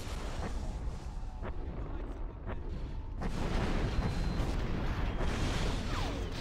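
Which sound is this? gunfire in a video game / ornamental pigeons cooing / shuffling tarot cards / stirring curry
gunfire in a video game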